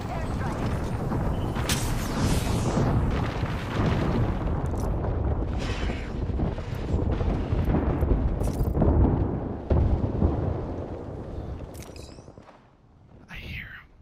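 Airstrike explosions in a battle-royale style video game: a run of heavy, rumbling booms and bursts rolling one after another, fairly loud, with voices talking throughout before the blasts die down near the end.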